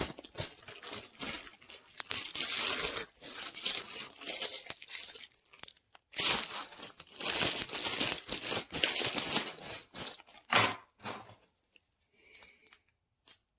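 Packing tape being ripped and pulled off the cardboard box of a YesWelder MIG 205 welder during unboxing, loud crinkling and tearing bursts in two long runs with short pauses, then a few sharp rips trailing off near the end.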